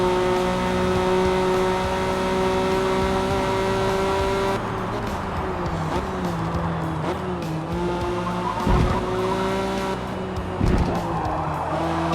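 A Honda NSX-R race car runs at Michelin Raceway Road Atlanta in a racing video game. A steady, close engine drone shifts pitch, and tires squeal and skid through the corners, with sharp bumps near the end.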